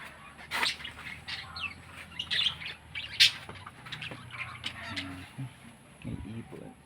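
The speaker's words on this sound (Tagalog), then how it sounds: "May ibon." Birds chirp and squawk in the provincial countryside, with scattered calls of varying loudness over a steady rural background and faint voices at times.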